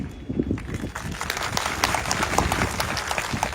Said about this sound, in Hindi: तालियों में दम नहीं